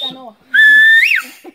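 A person whistles one short, bright note that rises and bends up at the end, close to the microphone, with brief talk just before and after.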